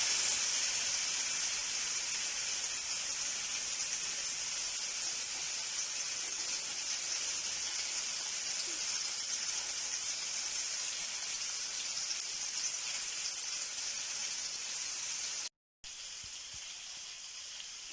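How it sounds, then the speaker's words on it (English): Tandoori chicken, breast side down, searing over a low gas flame in a pan, giving a steady bright hiss and sizzle that holds throughout with a brief cut near the end. "We sear the chicken nicely."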